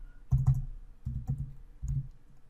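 Quiet keyboard typing, a handful of soft key presses in a short uneven run, close and alone without speech.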